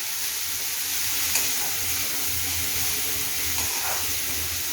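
Chopped onion and a green chili cook in a pan for baingan bharta, giving a steady close sizzle with faint occasional stirring scrapes throughout.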